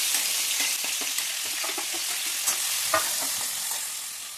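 Onion, tomato, ginger and crushed garlic frying in coconut oil in a hot pan, a continuous close sizzle broken by regular scrapes and taps of a stirring spoon, with no talking.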